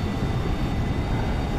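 Steady drone of a Cirrus Jet aircraft engine in the flight simulator game X-Plane 11, a continuous even hum with a faint high tone, brief and alone.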